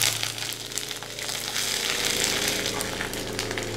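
Chopped ginger hits hot oil with chillies over a low flame for lemon pickle, giving a close, loud, continuous sizzle and crackle throughout.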